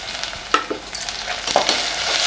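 Onions and curry leaves fry in a pan for Tamil viral fish curry, a soft steady sizzle broken by a few light stirring scrapes and clicks, close and fairly quiet with no talk.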